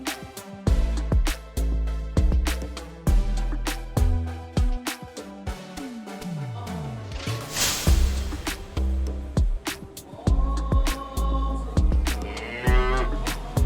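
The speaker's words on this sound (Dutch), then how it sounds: "Een koe loopt op de weg langs een moskee" A cow walking on a road beside a mosque in India, mooing several times over a busy, rhythmic backdrop of other sounds.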